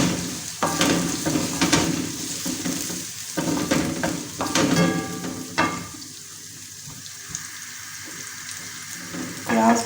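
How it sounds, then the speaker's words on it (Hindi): Onions sautéing in a pan for Behari keema, with a steady sizzle under repeated scraping stir strokes and occasional utensil clatter, fairly close and moderately loud, easing to a quieter fry toward the end. "प्याज को थोड़ी देर हम सौते कर लेंगे, बहुत ज़्यादा ब्राउन नहीं करेंगे।"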